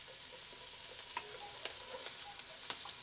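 Beef short ribs sizzling in a hot pan while being moved around, a quiet steady fizz broken by scattered crackles and small pops, close and alone without speech.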